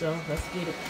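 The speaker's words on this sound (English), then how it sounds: "Y'all might hear a little buzz in the background." A hair dryer buzzes steadily in the background of a room, a continuous mid-level hum running under a man's speech throughout.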